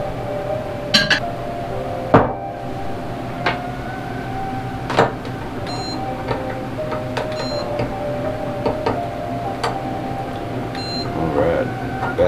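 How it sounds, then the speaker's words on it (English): A kitchen microwave oven runs with a steady low hum, while faint clinks of glass and dishes sound now and then close by. No one speaks. "I think we'll both put them both in the microwave."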